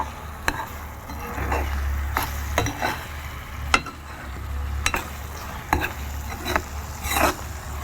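Egg being stirred in a hot pan for shrimp pasta: a soft continuous sizzle with repeated scraping strokes and occasional sharp clicks of a utensil against the pan, close and moderately loud.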